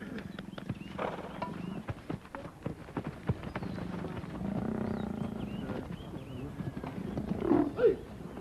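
Lions roar and growl near a fence while army training horses move with hoof clatter, the animal sounds loud and close, building to a heavy burst near the end with a voice briefly audible underneath.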